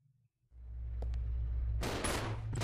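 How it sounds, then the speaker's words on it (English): Gunfire aimed at zombies in the video game Resident Evil Zero, a few sharp shots ringing out over a low droning game ambience before a dense, loud burst of rapid firing erupts and continues. "Shoot him while he's down."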